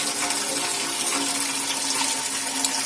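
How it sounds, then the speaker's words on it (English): Liquid alcohol wash pours into a distilling still, a continuous soft gushing and splashing of liquid at moderate level with no voices. "right, now it's going in."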